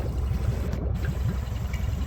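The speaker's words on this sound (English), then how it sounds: "Entering the pond. Slowly filling with water." Water gurgles and trickles steadily around a Pioneer 1000 UTV as it enters a pond and slowly fills. A low, continuous burbling churn is close and loud throughout, and no one speaks.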